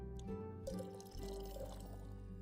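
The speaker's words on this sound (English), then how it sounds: "I can't pour it now. Why won't you pour?" Liquid pours into a glass in the tavern simulator game Tavern Talk, a steady trickling, dripping fill over a bed of game music, with a brief sloshing burst midway.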